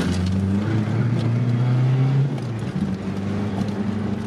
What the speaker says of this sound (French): t'entends le turbo qui s'enclenche très vite